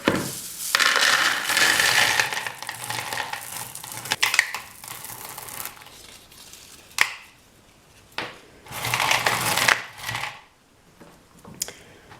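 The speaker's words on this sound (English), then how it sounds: "place your stones in your pot" Small decorative stones are poured and placed into a little plant pot, giving bursts of bright clattering and rattling in several separate handfuls with quiet pauses between them, close and crisp.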